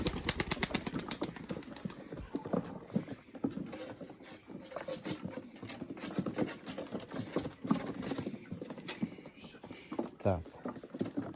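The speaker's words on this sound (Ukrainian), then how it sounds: "Третій голуб полетів" A released racing pigeon takes off, a quick flurry of wing flaps at the start, followed by faint rustling and scattered taps outdoors as voices talk nearby.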